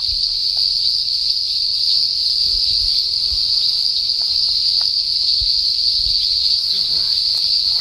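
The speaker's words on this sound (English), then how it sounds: "You can hear all these frogs calling around us." A night chorus at Karawatha holds a continuous, steady high-pitched trilling of calling frogs or insects, dense and close, with faint scattered clicks beneath and no talk.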